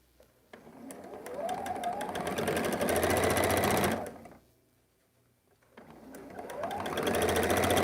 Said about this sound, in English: see how it works and looks before we sew the seam